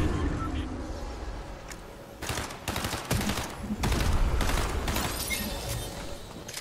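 Bursts of Fortnite gunfire rattle in several rapid clusters over a steady game background, loud and close, with brief gaps between volleys.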